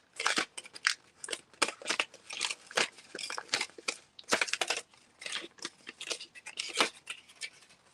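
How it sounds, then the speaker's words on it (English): Close, busy crinkling and tearing as adhesive backing is peeled off a junk journal cover, with irregular papery rips and crackles filling the whole stretch, no talking. "I can add more as I peel the backing off"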